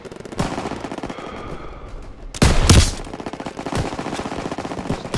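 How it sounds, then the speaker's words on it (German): Machine gun fire in the WWII shooter game Call of Duty: WWII, rapid bursts over continuous battlefield noise, with a loud, dense volley in the middle of the clip. "MGs, open fire."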